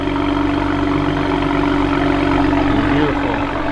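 A raffle car's engine idling at a cold start car meet, a loud, steady low rumble with crowd noise and voices mixed in.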